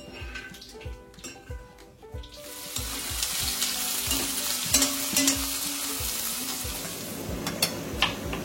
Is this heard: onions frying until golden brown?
yes